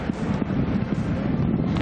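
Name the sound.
strong wind during typhoon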